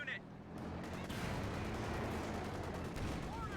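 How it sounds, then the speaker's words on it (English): A rifle grenade explodes in a multiplayer war video game, a sudden loud boom swelling into a sustained, rumbling roar of battle noise that fills the rest of the moment, with a voice faintly underneath. "Is it a rifle grenade?"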